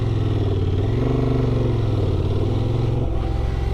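A 2024 Honda Transalp XL 750 motorcycle rides in second gear through desert terrain, its engine droning loud and steady with a continuous rumble and a brief dip near the end.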